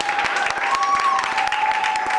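Applause from a congregation at a church service, steady rapid clapping filling the space continuously, fairly loud with faint voices mixed in.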